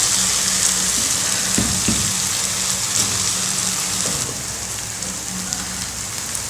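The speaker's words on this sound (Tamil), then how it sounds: "இப்போது இதில் சாப்பாடை சேர்த்து கிளறலாம்." Cooked rice is stirred into hot oil in a pan for a South Indian variety rice, a loud continuous crackling sizzle with a few thumps and scrapes of the spoon, close and steady, easing slightly toward the end.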